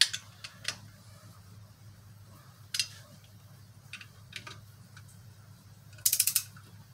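A ratchet snugs the clutch pressure plate bolts on a Jeep 4.0 engine during a rebuild, giving a few sparse clicks and a quick burst of rapid ratcheting at the end over a low background hum.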